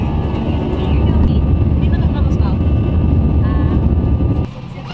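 Steady, loud droning roar of an airplane cabin in flight, continuous engine and airflow noise that drops off near the end, with family members talking over it.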